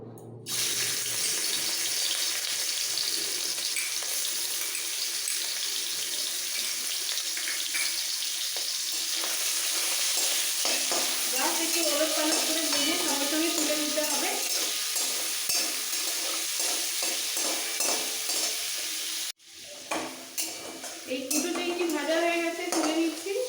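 Prawns coated in salt and pepper fry in hot oil for fried rice, sending up a loud, dense, continuous sizzle that holds steady, briefly cuts out, then resumes with utensil scraping.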